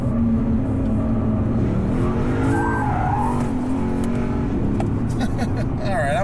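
A Lexus RC F Track Edition engine revs hard on a race track, with a loud sustained roar that rises and falls and tires squealing as it is driven, under a driver's voice.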